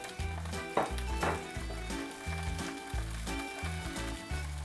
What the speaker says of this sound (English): add your onions in there once you sear your sausage